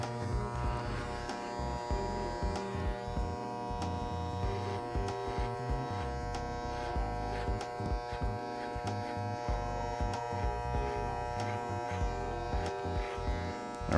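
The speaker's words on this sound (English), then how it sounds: "So this is an open clipper, all the way open." An Andis Masters hair clipper with the blade fully open and no guard buzzes steadily while cutting hair close to the scalp, a constant motor hum up close without talking.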